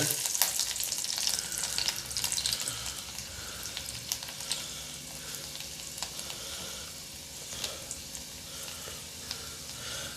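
Steady, crackling sizzle of finely chopped garlic frying in hot oil on low heat, with occasional sharper pops, close and moderately quiet.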